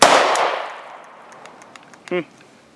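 An Intratec AB-10 pistol fires a single loud, sharp shot at the start, its report ringing out and decaying over about a second, followed by a brief voice.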